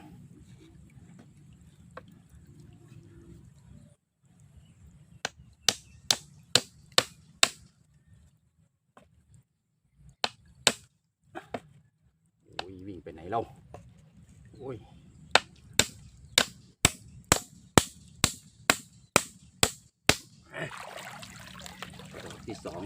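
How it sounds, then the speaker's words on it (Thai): Sharp hammer blows drive nails into wood in quick runs of taps while building a fish trap, separated by pauses and quiet handling noises, fairly close and crisp. "การตอกดอกแรก"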